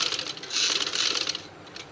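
A sewing machine runs in a steady burst, stitching a seam across small folded fabric pleats for a decorative latkan tassel, with a rapid mechanical chatter close by and no talking.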